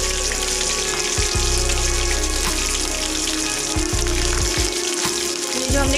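Curry leaves and green chillies frying with cumin in oil for batata poha, a loud dense sizzle with heavy low scraping and clatter of stirring throughout, no talk.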